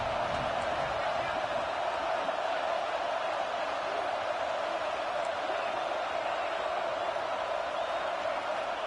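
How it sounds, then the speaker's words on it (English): An Auburn football stadium crowd roars on third down, a dense, continuous wall of noise holding at an even level for about nine seconds. "This Auburn crowd trying to conjure up a little magic here on 3rd down."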